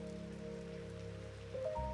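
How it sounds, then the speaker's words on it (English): Soft rain patters steadily on a roof, a faint, even wash of drops with a low background hum and a few brief tonal sounds near the end. "accompanying the sound of rain on the roof."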